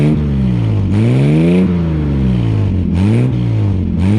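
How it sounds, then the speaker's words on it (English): Engine of a 1957 Austin-Healey 100-6 revved several times, with loud, close rising and falling swells of the exhaust note over a steady idle, three or four distinct blips alone without talk. "give you a couple revs, and then we'll put her away"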